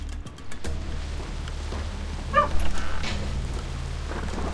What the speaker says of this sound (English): It's just my dog.